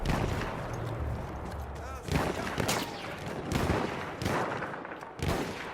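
Gunfire in the video game Battlefield 1, with a fast-firing sniper rifle in play: repeated loud shots and blasts in clusters over a dense, busy battlefield din.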